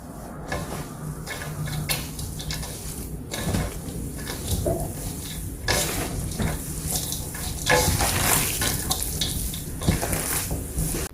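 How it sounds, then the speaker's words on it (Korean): Kimchi dumpling filling of aged kimchi with garlic, sesame oil and chili flakes is mixed by hand, making a steady, close squelching and crunching with irregular wet rustles throughout. "자, 버무려 볼게요."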